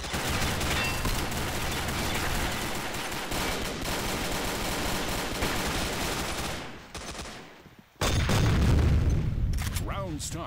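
Gunfire and a grenade blast in the shooter video game Combat Arms: rapid shots and booms crowd the first seconds, a brief lull follows, then a loud explosion bursts in near the end, with voices calling out around it.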